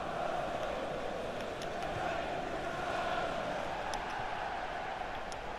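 Crowd singing olé chants in the FIFA 17 football video game during a Manchester United match, a steady, dense wash of many voices filling the stadium throughout, with no commentary over it.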